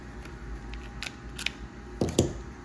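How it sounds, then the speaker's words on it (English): The handle of a Penn Fierce IV 6000 fishing reel is unscrewed, giving a few quiet, close mechanical clicks and ratcheting ticks over a low background. "we can unscrew the handle here, just like that."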